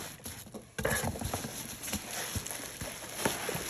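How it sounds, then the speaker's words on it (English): A cat knocks things over indoors, producing scattered light clatters, taps and rattles that come in uneven bursts at moderate loudness in the background. "the noise in the background is my cat knocking stuff over"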